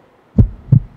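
Heartbeat, two loud, deep low thumps about a third of a second apart, close and clear against near silence.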